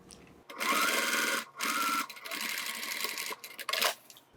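A sewing machine stitches along the bottom seam of a zipper pocket on a bag panel, a few loud whirring bursts of rapid needle action broken by short pauses, close and clear.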